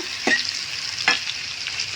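Jackfruit fibres frying in oil in a pan, a soft continuous sizzle with two brief scraping stirs, close and alone.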